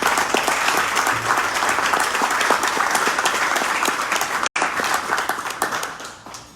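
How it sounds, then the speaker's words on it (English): Audience applause at a Rotary club changing-of-the-guard event honoring hardworking board members, a dense steady wash of many hands clapping close by, briefly cutting out near the end before tapering off. "Please give all of these hardworking board members a great Rotary round of applause."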